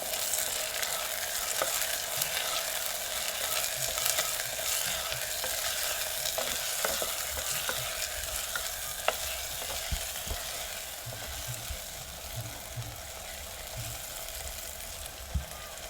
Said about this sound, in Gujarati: જરાક હલાવી નાખીએ આપણે